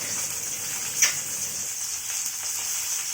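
Bhola fish frying in a home kitchen pan, a steady bright sizzle of hot oil holding even throughout with one small pop, no talk over it.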